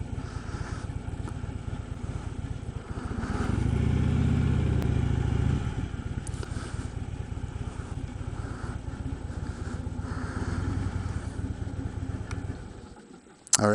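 A motorcycle engine idles and rumbles steadily while the rider parks, swelling louder for a moment midway before fading and cutting off near the end, with wind noise throughout.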